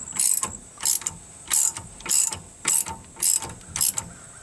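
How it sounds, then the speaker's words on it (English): A ratchet tightens a bolt on the back of an Equalizer 4-point sway control weight distribution hitch, seven close, crisp clicking bursts in a steady rhythm, each about a quarter second long, alone without talk. "Alright, then we're going to tighten this bolt on the back again."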